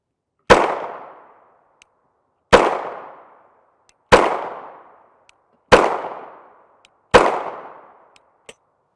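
Five loud, sharp 9mm pistol shots firing CBC 115-grain FMJ NATO ammunition, evenly spaced about one and a half seconds apart, each with a quick decaying tail, alone with no talk.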